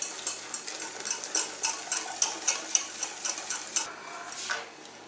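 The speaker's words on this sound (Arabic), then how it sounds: "هاد الحليب هذا تنردوه فوق البوطه وتنبقاو نحركو حتى تيعقد" A spoon stirs milk pudding in a pot, scraping in a steady rhythm of about a dozen strokes with soft clinks against the pot, close and moderately loud, with no talking, then it slows and stops.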